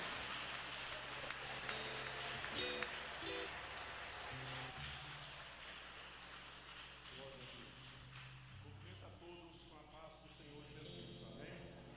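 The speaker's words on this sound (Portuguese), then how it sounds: "Vamos receber o servo de Deus, pastor Antônio Marcos, com as palmas bem forte, bem alegre para Jesus." A church congregation welcomes a pastor with applause, heard as a faint, steady patter of clapping that blends with sustained music and some voices.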